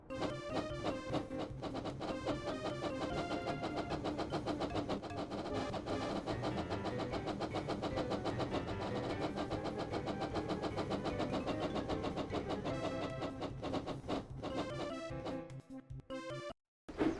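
Percy the small tank engine racing at speed in a Thomas & Friends video game, a steady, loud mechanical engine drone mixed with busy game music throughout, cutting out briefly near the end.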